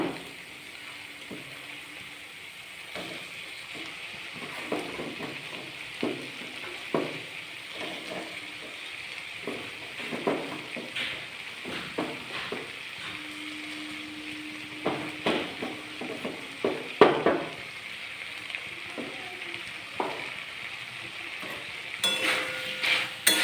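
Soya mince frying in a pan with spices and cooked potatoes, spatula scraping and stirring in repeated strokes over a steady low sizzle, close and moderately loud.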